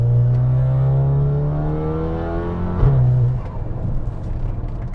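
A 2015 Audi A3 with a large-tipped aftermarket exhaust rumbles nearby, holding a low drone before a sharp rev rises and settles into a rougher, fluttering tone as the car pulls away.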